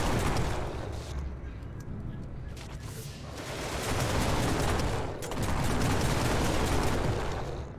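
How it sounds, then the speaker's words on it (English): Gunfire and blasts in the sci-fi video game Genesis Alpha One, a continuous loud, dense barrage of shots and rumbling impacts with brief dips, close and chaotic throughout. "No, you're shooting at them."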